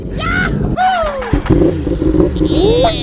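Yamaha R1M sport motorcycle engine revving, with rising and falling whining pitch sweeps, loud and close, cutting off briefly before climbing again, with voices mixed in.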